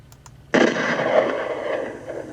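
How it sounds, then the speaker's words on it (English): A single rifle shot fired at a target 200 yards away cracks sharply and loudly, then rolls off in a long, fading outdoor echo. "Now we press fire."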